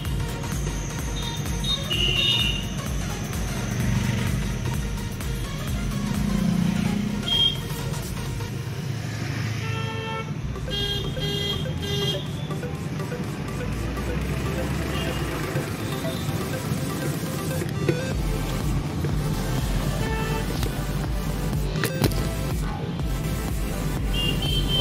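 Ford Figo driving through the narrow lanes of Banaras after light rain, a steady interior engine and road drone with faint clicks and passing street noise throughout, no clear speech.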